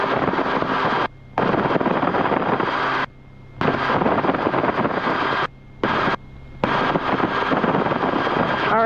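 Rotorway helicopter in flight, a loud constant rotor and engine roar with wind buffeting, heard from inside, broken by several abrupt drop-outs to near silence.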